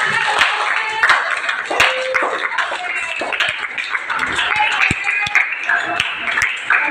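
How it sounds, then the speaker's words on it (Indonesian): Group clapping fills a classroom after a teacher asks for applause before a student group's presentation, with dense, uneven hand claps running steadily throughout, fairly loud and close. "Oke, tepuk tangan dulu ya."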